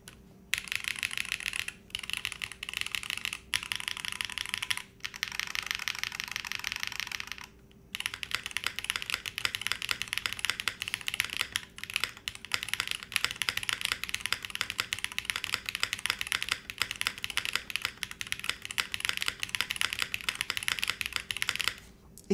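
Typing on a Kyubi mechanical keyboard kit with poppy switches on a plastic plate, top-mounted with no foam, gives a dense, steady clatter of key presses, close and continuous with brief pauses early on.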